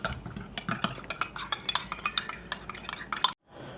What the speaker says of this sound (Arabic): معايا ربع كوباية مية ومعايا معلقتين نشا، نضيفهم في الكوباية، نقلبهم